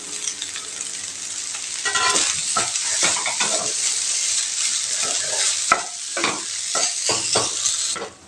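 Crumbled idli and eggs are stirred and fried in a pan to make idli upma. A constant hissing sizzle runs beneath repeated scraping stirs from a spatula, which come at an uneven rhythm, close and fairly loud.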